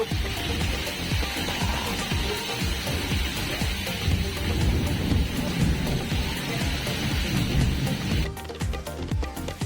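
Steady heavy rain with low rumbling thunder rolling underneath, loud and continuous, shifting to sharper crackling patter near the end, during a windstorm in a village in Mahuva taluka, Bhavnagar, Gujarat.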